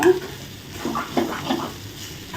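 A spoon stirs cooked rice around a pan on low heat, giving soft scraping and shuffling sounds in a few short strokes, close but fairly quiet.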